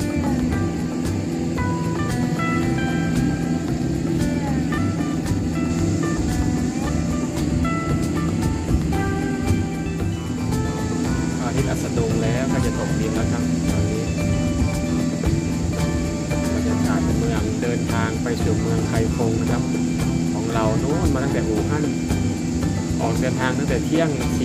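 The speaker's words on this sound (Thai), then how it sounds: "เครื่องบินเรามันเครื่องบินเล็กนะครับเครื่องบินเล็กแล้ว การเดินทางมันก็ช้านะครับ มันไม่ใช่ระบบไอพ่น" Steady drone of a small propeller airplane cruising through a long flight, a continuous engine hum with no jet whine, running unbroken throughout at an even loudness.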